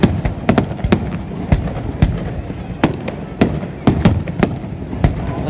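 Palm-tree fireworks burst over Poole Quay in a rapid, irregular volley of loud, sharp bangs with crackling tails, heard outdoors with faint voices in the crowd.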